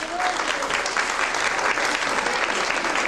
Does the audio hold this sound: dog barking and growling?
no